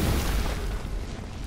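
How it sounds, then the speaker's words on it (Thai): A deep, muffled boom of an enemy exploding in the video game Lords of the Fallen, loud and sustained with a rumbling low tail that slowly fades, with no talk over it. "เดี๋ยวมันจะระเบิดนะเราแทงมัน เดี๋ยวระเบิด"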